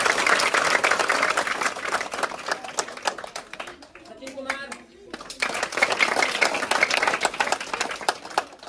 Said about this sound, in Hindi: तालियों की आवाज शांत करो।